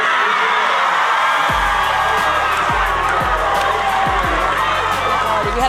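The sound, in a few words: excited crowd of Trojan fans cheering in arena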